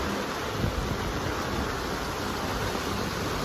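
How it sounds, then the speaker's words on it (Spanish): A heavy downpour drums steadily in Huajuapan de León, Oaxaca, a thick, even wash of rain noise right at the microphone, constant and loud for the whole stretch with no talking. "Señores, así llueve en Huajuapan de León, Oaxaca, hoy."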